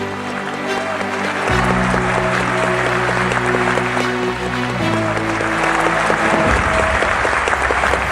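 Loud, sustained applause fills an award ceremony hall as an honoree is called on stage, with steady music tones running beneath the clapping throughout.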